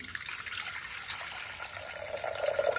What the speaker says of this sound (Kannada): ನೋಡಿ, ನೀರು ಹಾಕ್ಕೊಳ್ತಿದ್ದೀನಿ.